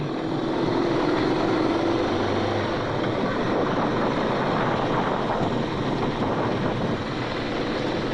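A motorcycle riding down the Klausenpass, a constant engine drone mixed with heavy wind rush, loud and steady throughout with no speech.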